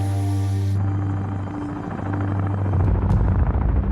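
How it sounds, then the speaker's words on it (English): Deep, droning Black Hawk helicopter rotors thump steadily during takeoff, the engine tone shifting and growing louder and rougher toward the end. "the SEALs' stealth Black Hawk helicopters take off"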